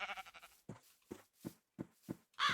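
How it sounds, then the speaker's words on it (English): Minecraft sheep bleat repeatedly in a video game: about six short, nasal bleats in an uneven rhythm, close and clear with quiet gaps between them. "Can we find any other sheep around here?"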